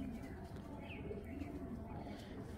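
A female racing pigeon coos softly, a low murmuring call heard faint and muffled against a steady background hum.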